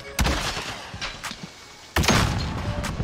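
Gunfire in Call of Duty Modern Warfare multiplayer: a handful of irregular, moderately loud shots and thumps with one heavier burst near the end, set against a busy in-game background.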